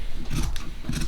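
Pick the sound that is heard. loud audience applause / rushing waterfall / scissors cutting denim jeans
scissors cutting denim jeans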